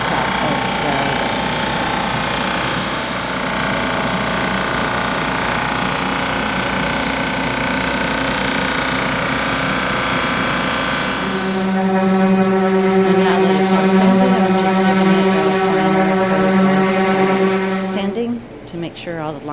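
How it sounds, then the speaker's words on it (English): A drum sander runs a live-edge wood and resin charcuterie tray through, a loud steady machine drone that shifts to a heavier grinding hum midway as the workpiece feeds, then winds down at the end. "Now I'm going to run this through the drum sander a few times and just get the wood down level"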